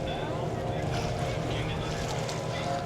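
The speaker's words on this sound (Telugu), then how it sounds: "అయ్యి బాబాయ్ ఈ బోటు ఊగేస్తుంది" A rocking boat out on the sea off Goa gives a steady, close wash of water and wind noise, with a low hum running underneath.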